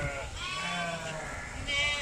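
Sheep bleat at a feeding session on a farm near Bangkok, several wavering calls overlapping in a noisy outdoor crowd, close and steady, with a low voice briefly heard beneath.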